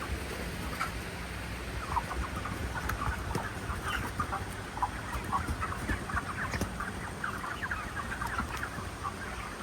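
Many chickens cluck continuously in a crowded space at a market, a steady busy flock chatter with no pauses.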